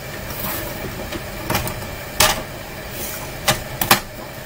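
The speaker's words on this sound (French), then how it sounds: "je pousse bien le curseur qui coupe" A sliding paper trimmer blade cuts through card for a handmade Christmas accordion card, giving a few sharp, brief scraping cuts over a steady background hum.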